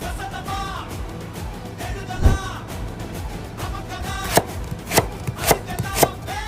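A knife cutting through a mango, a run of close, firm chopping thuds growing quicker and sharper toward the end over faint background noise.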